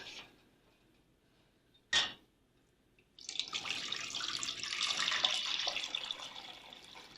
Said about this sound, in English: I'm just going to pour that back into my saucepan